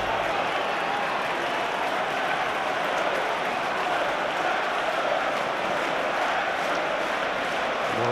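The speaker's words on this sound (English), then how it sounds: "More applause for Frank Lampard" A football stadium crowd at Chelsea v Swansea City in the 2012–13 League Cup semi-final applauds Frank Lampard, a broad, continuous roar of clapping and crowd noise held steady for several seconds.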